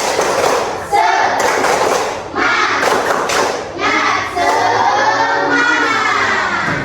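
A classroom of students claps a rhythmic spirit cheer in unison, with loud patterned bursts of clapping and thumps mixed with chanting voices, pausing briefly between phrases.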